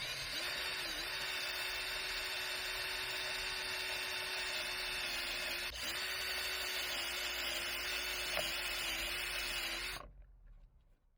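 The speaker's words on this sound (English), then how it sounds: "take our 1-inch stepper bit and go ahead and widen the hole a little bit more" A power drill with a 1-inch step bit whirs steadily for about ten seconds widening a hole in a Mustang, its pitch dipping briefly a few times as the bit bites, then it winds down and stops.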